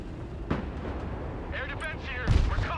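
Gunfire in the video game Broken Arrow, with booming shots at about half a second and a heavier blast near the end over a constant rumble of battle noise, while voices talk over it.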